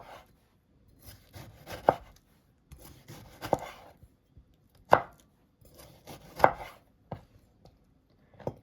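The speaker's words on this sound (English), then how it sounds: "So let's slice the tomato" A knife slices through a tomato on a cutting board in a home kitchen, a series of soft, separate cuts with sharper board taps, spaced irregularly with quiet gaps between strokes.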